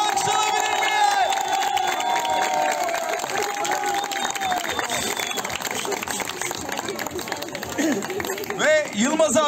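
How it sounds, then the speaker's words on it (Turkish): A crowd at a holiday camp event in Manavgat, Antalya, claps and cheers for a contest runner-up, with shouts and whoops throughout and a speaker's voice carrying over the noise. "Kampstagram'ın ikincisi Yılmaz Jackson için bir alkış alabilir miyim?"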